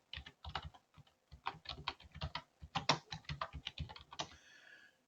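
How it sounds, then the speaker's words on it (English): Quick, uneven keystrokes on a computer keyboard at a UPS Store, tapping out a short burst of typing at close range with brief pauses between words and a final harder key press. "I'll type in my own business"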